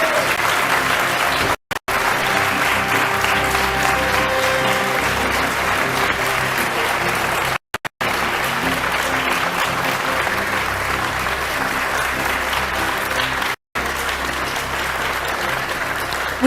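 Sustained, dense applause from an audience greeting a presidential candidate at a Kenyan event, steady and loud throughout with a few brief dropouts.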